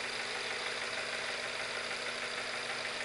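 A Visible V8 model engine idles at about 773 RPM with a steady, buzzy whir and a faint rattle, continuous and even at close range, with no one speaking.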